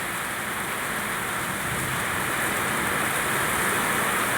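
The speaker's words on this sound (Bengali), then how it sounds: "কি ঝড় বৃষ্টি হচ্ছে," Heavy rain pours during a storm, a dense, steady hiss of drops hammering nearby surfaces that holds constant and slightly swells, with no voices over it.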